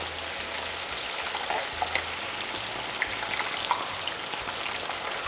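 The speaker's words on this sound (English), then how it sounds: "you let this fry, and then it floats to the top" Soft, steady frying crackle and hiss of battered chickpeas in hot oil in a pot, with a few light pops, fairly quiet and continuous.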